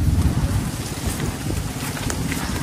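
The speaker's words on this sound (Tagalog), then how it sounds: "Ulan na naman ng malakas." Steady heavy rain roars outdoors, mixed with gusty wind buffeting the microphone, a dense continuous wash of noise without speech.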